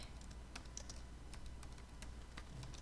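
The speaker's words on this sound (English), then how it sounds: "you can type in default username and password" Faint, sparse computer keyboard typing during router setup for a Minecraft server, a handful of soft scattered keystrokes over a steady low hum, with no voices.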